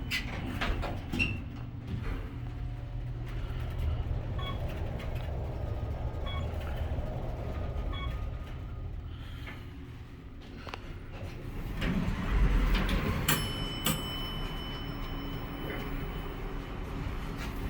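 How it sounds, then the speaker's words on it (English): Metro train in downtown Phoenix, heard from inside a parking garage: a distant low rumble swells and fades partway through, under people talking and the hum and tones of elevator machinery. "You can hear the metro."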